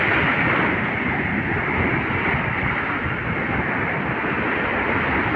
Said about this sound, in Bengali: সমুদ্রের যে গর্জন হুঙ্কার সেটাও এখানে পাওয়া যাচ্ছে।